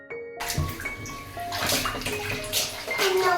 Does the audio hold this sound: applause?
no